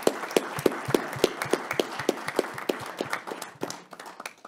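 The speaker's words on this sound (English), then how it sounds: "I would like you to please join me in offering them a rousing round of applause" Audience applause after a conference panel on AI and the space economy, a modest scattering of individual claps in a loose, uneven rhythm that thins out toward the end.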